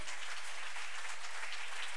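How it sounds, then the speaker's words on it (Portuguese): Congregation applause at a Portuguese-language church service, a steady dense wash of clapping throughout, fairly quiet and without voices. "Se você crê nisso, dê um aplauso a Jesus"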